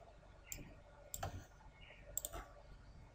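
Computer mouse clicks while working in SolidWorks CAD software, three or four quiet, crisp clicks spread over a few seconds against a faint background hiss, with no voice.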